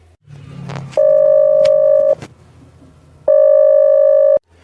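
An unanswered telephone call rings out with two long steady electronic ringback tones separated by a pause, loud and close, after a brief handling rustle.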